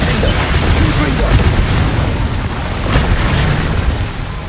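The Confringo spell blasts in Hogwarts Legacy, a loud, booming explosive burst filling the short clip, dense with rumbling game effects and a shouted voice.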